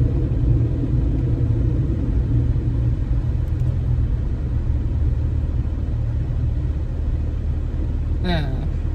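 Car engine rumble while driving in traffic: a steady low drone under muffled cabin noise, with a brief high chirping tone near the end.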